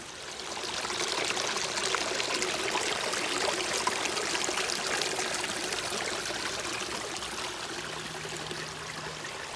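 Cold water from a stream in a park flows steadily in a continuous rushing trickle, close and even, and it goes on without a pause or any voices.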